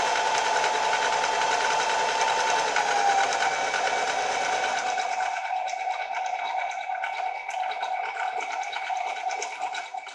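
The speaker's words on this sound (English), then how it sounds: "I always backstitch over the elastic to keep that strength in" Sewing machine running continuously and fairly loud as it backstitches over elastic on a fabric face mask, a dense steady whir that thins slightly toward the end.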